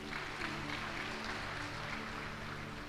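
An audience at a religious discourse clapping steadily, a dense, continuous patter of many hands at moderate distance, fairly even in level throughout.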